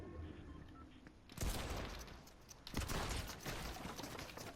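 Gunfire in a first-person shooter video game: two loud bursts of shots, the first around a second and a half in and a second, longer burst shortly after, with faint game noise before them.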